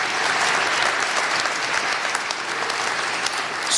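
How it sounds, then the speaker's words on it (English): A crowd applauding after a congratulatory speech, with many hands clapping in a dense, even roar that stays loud and steady from start to finish. "give yourselves a round of applause for an incredible accomplishment"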